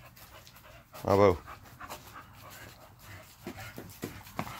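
Dogs outdoors on a yard, with one loud close burst of panting and whimpering near the start, then soft panting under a man's speech.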